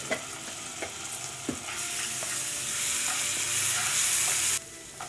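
Cumin, mustard seeds, onions, turmeric and ginger-garlic paste sizzle and fry in a pan for a capsicum masala curry, with a few spoon stirs early on and a steady loud hiss that swells before cutting off abruptly near the end.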